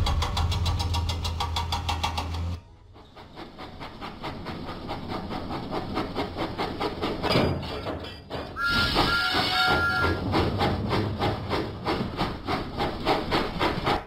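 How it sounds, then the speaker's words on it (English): Steam locomotive Thomas in a Thomas & Friends video game, a steady rhythmic chuffing and engine rumble that starts after a brief opening tune, playing loud and continuous with a whistle-like tone partway through. "Thomas pumped his pistons and puffed out of the docks"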